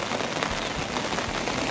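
Heavy, steady rain pouring in the Gir forest hills, a dense close hiss of drops drumming on surfaces without pause, no voices.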